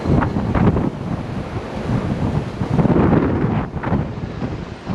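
Loud gusty wind in London, strong enough to break trees, roaring against the microphone in uneven surges, steady and close, with no talking.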